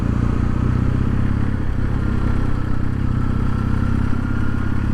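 A Kawasaki W800 motorcycle engine runs steadily at around 2000 rpm. The low, even mechanical drone is loud and close throughout, with a faint clatter over it and no speech.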